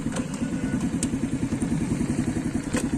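An Arora Kasirga Lux Cub 50cc motorcycle engine runs under throttle with a loud, steady, rapid thumping putter, close and continuous, with faint wind and road noise above it.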